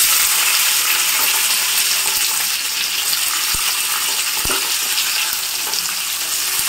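Cumin seeds and onion frying in hot oil in a home kitchen, giving a steady close broadband sizzle throughout with a couple of sharp pops or crackles midway and no talking.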